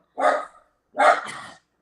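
A dog barks twice, close and fairly loud, each a short gruff bark separated by a brief pause, the second slightly longer and trailing off.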